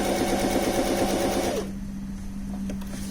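A bernette b05 academy sewing machine running an edge stitch, a steady fast mechanical whir with a constant hum that drops in intensity partway through as stitching eases off, close and with no one speaking.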